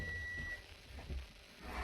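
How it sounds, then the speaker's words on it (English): An oven timer gives a single thin, steady beep for about half a second, then stops. It is faint over low room hum, with no voices. "That's just my oven. Oh, the timer to get the lemonade."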